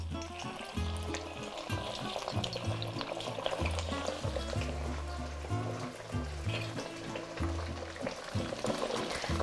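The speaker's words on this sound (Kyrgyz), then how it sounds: "Жакшылап куйрукту кууруп алабыз," Sheep tail fat frying in a pot of hot oil for plov, a steady loud sizzle and crackle running throughout with no speech.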